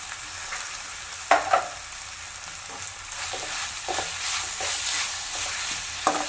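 Tomato stirred and sizzling in a pan of oil while making spicy chicken curry, a steady frying hiss broken by a few sharp spoon-scrape clatters, close and alone with no voices.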